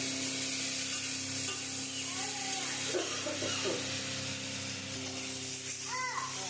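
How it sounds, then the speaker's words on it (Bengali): Mutton sautéing in a pan for mutton kosha, a continuous close sizzle and hiss with occasional stirring, while faint voices and a brief whistle-like tone sound underneath. "মাংসটা এখন কষাচ্ছে"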